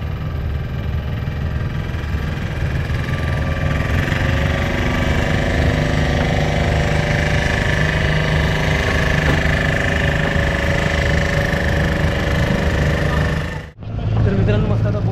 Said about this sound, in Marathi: मस्त आता बोट चालायला लागली